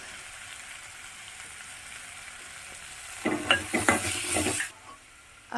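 Cashew pieces fry in a pan for a stuffed brinjal curry. A faint hiss builds into a loud burst of sizzling and stirring for about a second and a half, then drops away to near silence.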